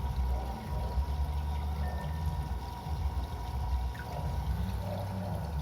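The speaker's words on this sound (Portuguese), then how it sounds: "Vamos só reduzir um pouquinho de água aqui." A little water is poured off while measuring ammonia for an aquarium test, giving a steady low splashing pour that runs continuously and fairly quietly for several seconds with no talking.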